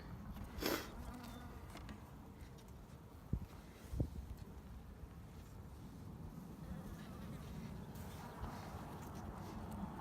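Constant honey bee buzzing around an opened hive fills the background, steady and moderately close, with a few soft knocks and rustles over it.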